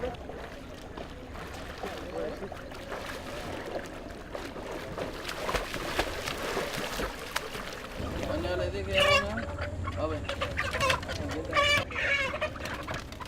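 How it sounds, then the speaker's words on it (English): Chickens clucking and squawking while carried on small rafts across the border river between Guatemala and Mexico, set against a murmur of voices and outdoor bustle, with the clucks growing louder near the end. "We got chickens, we got produce coming across."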